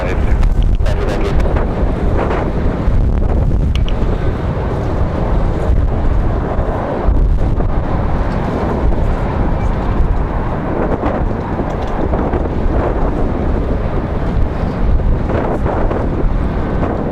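Strong gusting wind buffets an outdoor microphone while planes are watched at Raleigh-Durham International Airport, a loud continuous low roar and rumble that swells and dips throughout, with faint talk now and then beneath it.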